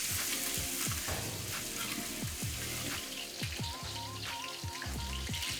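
Carrots and onions fry in sunflower oil in a pot with a loud, close sizzle and crackle, sharp spattering pops scattered over a steady frying hiss.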